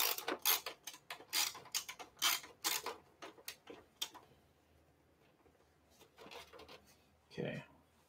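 Thumb screws being turned into an MSI Creator P100X desktop case, heard as a quick run of close, faint metallic ticks and scrapes, then a quieter stretch and a brief soft thump.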